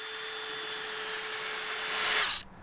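A power drill runs under foam to let water flow beneath, a steady whine that rises in pitch and loudness near the end before cutting off sharply.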